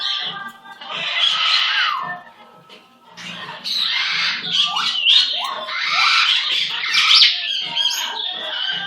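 A pet bird chirps and squawks in rapid, bright bursts, close and loud, with a near-continuous stream of calls and a short lull partway through.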